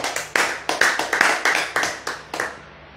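Audience applause at an Indonesian talk: a burst of separate, sharp hand claps in an uneven rhythm, close and fairly loud, thinning out and fading toward the end.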